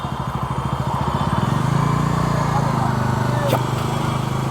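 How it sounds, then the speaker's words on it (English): A Bajaj Dominar 250 motorcycle engine thrums nearby with a pulsing idle, then rises in a quick throttle blip during a downshift and settles back, with a voice speaking over it. "shift down our gears, what we do is we blip the throttle"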